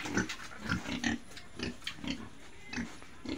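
Pigs in a muddy farm pen grunt repeatedly in short, uneven bursts, close by and moderately loud, with no voices over them.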